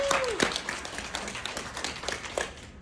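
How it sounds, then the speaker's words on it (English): An audience at a leadership event claps in short, scattered bursts of sharp hand claps, fairly close, with a brief tone sliding down at the start. "Y'all can clap for them."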